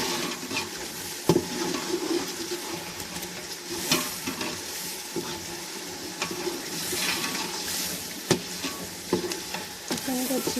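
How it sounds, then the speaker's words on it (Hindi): Chicken pieces frying and being stirred in a cooked masala for biryani, a steady close sizzle with intermittent scraping stir knocks against the pot. "चिकन को अच्छी तरह भून लेंगे।"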